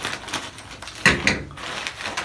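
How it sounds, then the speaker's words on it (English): A blade slicing through the plastic top of a shipping bag holding a Cuban link bracelet, a few close scraping cuts and crinkles, with a sharper rip near the middle, no voices. "So we'll just cut it over the top of the bag."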